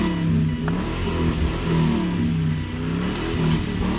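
An old minivan engine, just started after a dead battery, runs rough and revs unevenly in a steady, fairly loud mechanical drone with wavering pitch, no talking over it.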